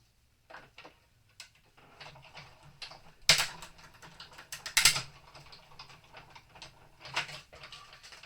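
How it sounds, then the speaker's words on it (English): A die-cutting machine cuts acetate with a circle die, giving close mechanical clicks and ratcheting clatter as the crank turns, with a couple of louder sharp snaps in the middle and no speech. "I'm going to cut out the acetate using my circle die."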